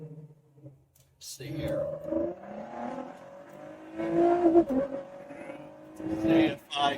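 Engine of a 2020 Ford GT revving, rising in pitch in short climbs as if bouncing off the rev limiter, moderately loud under someone talking quietly.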